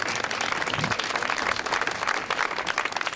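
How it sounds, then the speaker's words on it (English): A community crowd applauds at a ribbon cutting ceremony for a theatre building, dense steady clapping that stays loud and continuous for the whole stretch with no talking. "Give yourselves another round of applause"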